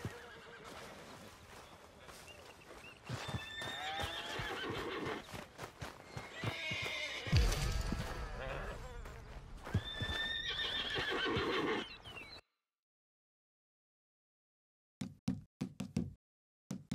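A horse neighs and whinnies loudly several times amid clopping hooves and knocking, then silence followed by a few short bursts of sound, in the video game Red Dead Redemption 2.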